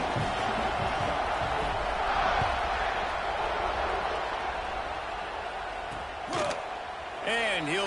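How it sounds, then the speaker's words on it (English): A stadium crowd roars in a football video game around the kickoff, a dense, steady wall of cheering with a commentator talking over it and a brief thump near the end. "They're set to kick it off, and this crowd now ready to get behind them."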